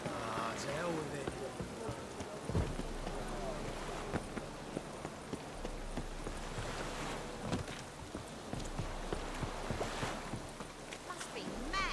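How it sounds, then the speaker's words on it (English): Steady rain in The Witcher 3 hisses throughout, a dense wash of noise with occasional low thumps and faint voices underneath. "Must be mad running around in this rain."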